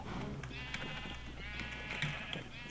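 Sheep in a Minecraft survival sheep farm bleat in wavering, nasal calls, one long bleat in the middle and shorter ones around it, at moderate distance over a low hum.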